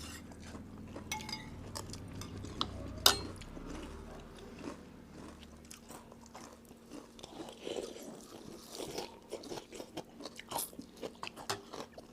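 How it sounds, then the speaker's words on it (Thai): Crunchy fried salmon skin bitten and chewed up close, a series of sharp crisp cracks and crunches with a loud snap early on, then steady chewing. "ใครอยากกินหนังปลาแซลมอนทอดกรอบ กรอบกรอบฟูฟูชิ้นโตๆแบบน ี้"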